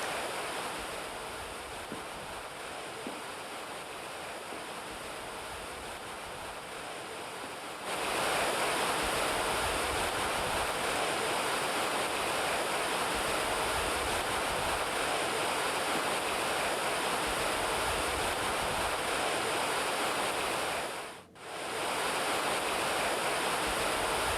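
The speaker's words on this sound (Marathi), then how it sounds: "नाशिकच्या त्र्यंबकेश्वरमध्ये मध्यरात्री मुसळधार पाऊस झाला" Heavy midnight downpour in Trimbakeshwar, Nashik, with water streaming along the roads: a dense, steady roar of rain and running water that swells louder after the first few seconds and dips briefly near the end, with no voices.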